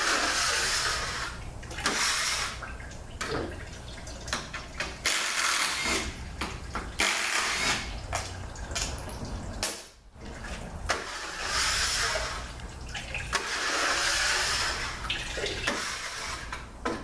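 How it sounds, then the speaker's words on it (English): Fluid pours out of a ZF8HP70 automatic transmission during teardown, a loud continuous rushing splash close to the source, with brief gaps and small clanks of parts in between. "I don't think this unit was drained, so here comes the fluid."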